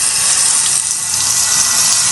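Tap water gushes steadily through a cheap screw-on faucet light, a loud, close, even hiss of running water with no breaks or talking.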